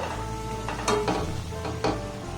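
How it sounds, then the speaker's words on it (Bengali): An egg and flour snack fries in hot oil, a continuous sizzle with a low hum beneath and two brief louder crackling bursts as it is stirred or turned. "এইভাবে একটু হালকা লাল লাল করে আমি ভেজে নেব"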